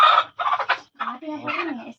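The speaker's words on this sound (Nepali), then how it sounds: "भाले कहाँ छ भाले?" A rooster crows once nearby, loud and close, a short broken call rising and falling over about two seconds.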